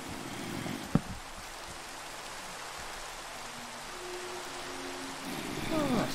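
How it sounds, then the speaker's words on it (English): Steady rain falls in the video game Minecraft, a continuous soft hiss that runs throughout at moderate level, with a brief sharp click near the start and a faint chirp toward the end. "Oh, it's raining."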